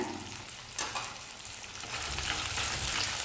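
Onions and whole peeled garlic sizzle and fry steadily in a hot pan for a Tamil sundakkai vathal kuzhambu, a dense crackling hiss with occasional stirring, no talk.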